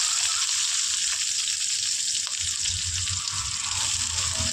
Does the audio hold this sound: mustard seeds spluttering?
yes